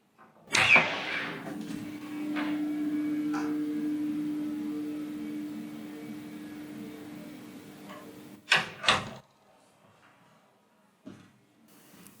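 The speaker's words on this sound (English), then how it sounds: "I'll do a quick demonstration by opening and closing the solid studio door so you can hear the difference for yourself." A heavy, solid studio door in a soundproofed shed studio, sealed on all four sides including the hinges, opens with a thud and a low sustained hum in the room, then closes with two sharp, close knocks, followed by a quiet tap.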